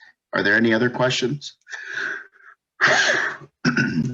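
A person sneezes once during an online real estate seminar on commercial properties, the sharp burst coming between stretches of close, clear talk.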